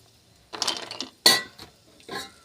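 Raw peanuts dropped into a pan of hot oil for frying, giving a few close, bright clinking and rattling bursts of nuts hitting the metal pan, separated by short pauses.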